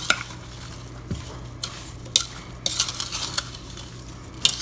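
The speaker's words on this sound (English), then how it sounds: "But you just sprinkle a little brown sugar in there too. And then you stir it up." A spoon stirs sliced apples and brown sugar together for apple pie filling, giving scraping and clinking strokes against the bowl, with soft wet rustles between them, close and moderately loud.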